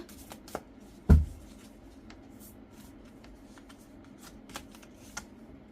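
Oracle cards are shuffled up close: a quiet papery riffle with one sharp louder flutter near the start and a few faint flicks after, no voices.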